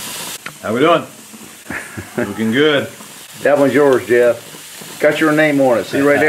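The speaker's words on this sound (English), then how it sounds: "I'm just going to put them right on this gas grill, which, like I say, I normally use charcoal" Canada goose steaks searing on a gas grill give a steady background sizzle and hiss beneath close, continuous conversation from several people.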